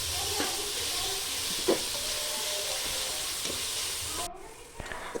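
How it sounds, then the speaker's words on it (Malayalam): Tomatoes sautéing in a pan for biryani give a steady broadband sizzle with soft stirring scrapes and a brief clink, the hiss dropping off sharply near the end. "കുറച്ച് തക്കാളിയും കൂടെ ആഡ് ചെയ്ത് കൊടുക്കുന്നുണ്ട് കേട്ടോ. നല്ല രീതിയിലൊന്നും കൂടെ വഴറ്റിയെടുക്കാം."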